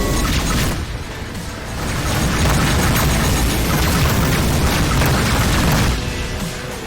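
Missiles burst in Rebel Galaxy Outlaw, a heavy booming roar that swells and stays loud for several seconds, dense and rumbling, then eases near the end.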